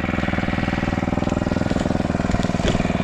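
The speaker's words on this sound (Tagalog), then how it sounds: "dire-diretso na yung pag-grass cutter natin" A gasoline grass cutter engine runs steadily and loudly up close, a continuous pulsing drone with no talk, while cutting grass among calamansi and chili plants.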